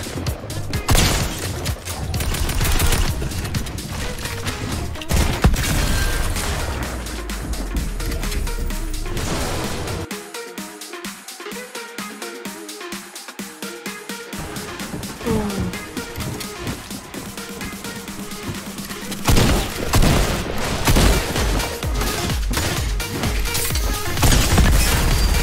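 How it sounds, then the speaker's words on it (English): Gunfire in Fortnite Chapter 2 Season 5, including a P90, comes as long rapid bursts of sharp, loud shots with short gaps, heavy impacts and louder crashes toward the end. "Are you shooting at me?"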